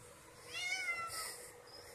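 A single drawn-out meow from a hungry cat, quiet and close, rising and falling in pitch.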